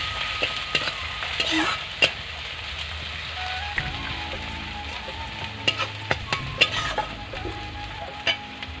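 Spices with turmeric powder being stirred and fried in a pan for a rohu fish curry, a steady soft sizzle under intermittent scraping clicks of the spoon, close by with no talking.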